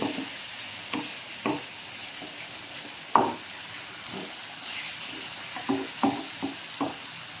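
Stirring in a cooking pan after salt goes in, with a steady soft sizzle underneath and repeated scraping spoon strokes at an uneven rhythm, close and moderately loud, no talking.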